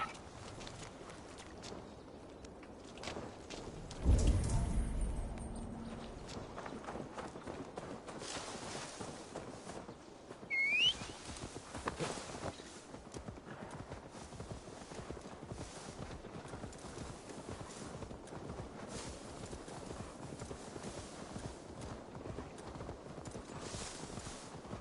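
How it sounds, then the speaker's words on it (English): Horse hooves clip-clop at a steady walking rhythm, fairly quiet, with a brief louder thump early on and a horse snort midway, from the video game Assassin's Creed Valhalla. "Now to deliver Magni his horse"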